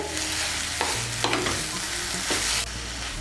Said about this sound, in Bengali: এখন একটু নাড়াচাড়া করে নেব।